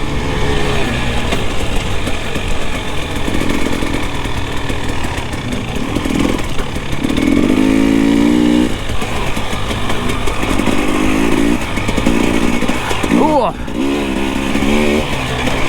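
A Sherco trials motorcycle engine fitted with a Rekluse clutch runs continuously up close, rising and dropping in short revs over a rough, windy outdoor background, with a rider talking over it.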